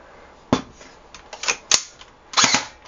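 A G&G L85 AFV airsoft rifle test-fires in about four or five sharp, close, clicky snaps, two of them in quick pairs, with no talking.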